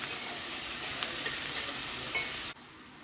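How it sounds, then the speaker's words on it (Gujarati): Capsicum and onion sautéing in a pan for street-style paneer bhurji, a steady loud sizzle with faint stirring scrapes, close up, easing off sharply near the end, no voices. "કેપ્સિકમની સાથે આપણે થોડું એડ કરીશું, જેથી કેપ્સિકમ અને ડુંગળી થોડા જલ્દી સોતે થઈ જાય."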